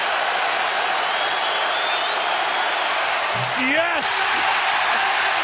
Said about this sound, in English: And the crowd explodes.